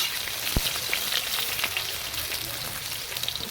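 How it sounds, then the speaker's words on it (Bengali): Potatoes fry lightly in hot oil for a rohu fish curry, giving a steady, soft sizzle with faint crackles and pops throughout, close and unbroken. "আলুগুলো প্রথমে একটু হালকা ভাজুন"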